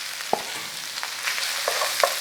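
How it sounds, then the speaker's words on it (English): Sausage, onions and peppers frying together in one pan for fajitas, a steady sizzle with a few soft knocks and scrapes of stirring. "Stir that through and then get your peppers in."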